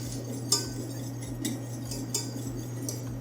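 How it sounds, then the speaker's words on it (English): Sugar and pectin whisked into a banana mixture in a pot, a continuous close whisking swish with occasional light clinks of metal against the pot, steady hum beneath, no voices. "then whisk really well at the same time"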